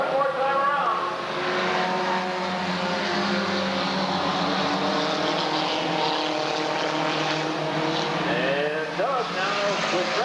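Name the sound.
mini stock race cars racing around the track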